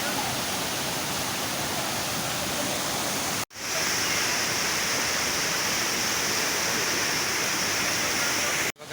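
Heavy roaring rush of water from the second fall near Pali Waterfall on a monsoon trek in Goa, a dense, steady wash of noise close by, broken by two abrupt cuts.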